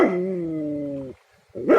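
A dog gives a drawn-out, whining bark-howl held for about a second, then a short pause and another sharp vocal burst, loud and close.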